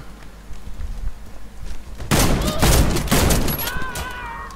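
Rapid shotgun blasts from a Fabarm STF 12 Compact in the game Warface, a quiet stretch then a loud burst of closely spaced shots with some voice underneath.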